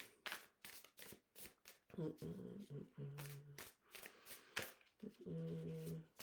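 Tarot-style cards being shuffled for a card reading, with crisp, irregular riffling flicks close by, under someone speaking and with some humming tones.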